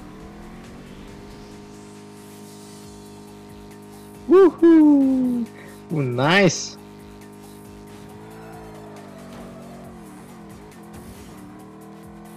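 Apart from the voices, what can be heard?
car racing and drifting in Ace Racer video game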